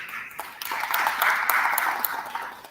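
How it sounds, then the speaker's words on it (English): An audience at an African Union business summit claps for city colleagues, steady moderate applause from a gathered crowd lasting a few seconds. "give them a round of applause"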